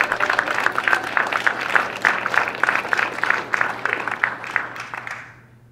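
An audience at a nonprofit grantee celebration claps and cheers in a steady burst of applause that holds for several seconds, then quickly fades out.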